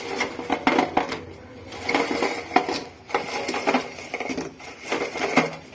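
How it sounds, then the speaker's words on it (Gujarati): Fried cabbage manchurian balls tumble into a pan of manchurian masala and get stirred, giving repeated clattering and scraping of utensil against pan, fairly close and continuous with no talk. "હવે આમાં આપણે આ જે ગોટલી તળેલી હતી તે એડ કરી દેવાની છે."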